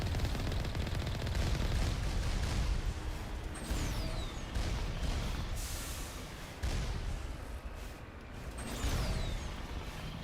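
Sustained gunfire against turrets in the sci-fi game Mass Effect: Legendary Edition, dense and loud throughout, with repeated bursts and whooshing streaks over continuous battle noise.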